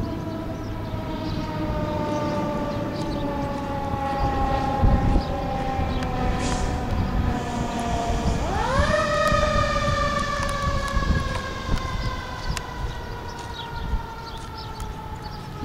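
A fire truck siren wails at a park, holding a steady tone before sweeping upward in pitch midway and sustaining loudly to the end, with no talking.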